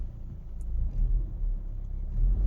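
A 2013–17 Ford Ecosport engine responding to a pressed throttle pedal, a low, close rumble that swells in brief surges as the revs rise.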